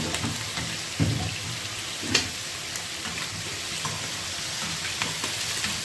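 Two cardamom pods sizzle in a pan while a chicken liver and gizzard casserole is being made. An even, moderately loud frying hiss carries on throughout, with a couple of faint clicks and no speech.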